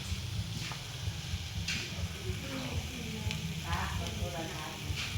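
Insects stir-fry in a pan with a steady crackling sizzle, close up, with occasional scrapes of stirring and a voice talking quietly underneath.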